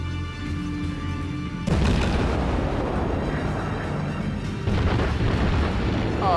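Naval gunfire striking a cruiser in World of Warships, a sudden heavy boom that gives way to a sustained rumbling roar, with a second surge later, loud and close.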